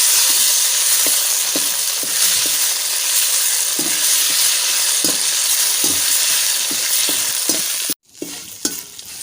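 Curry leaves fry in hot oil while being stirred, a loud, steady sizzle with soft scraping strokes, then cutting off abruptly near the end and followed by a few faint clinks.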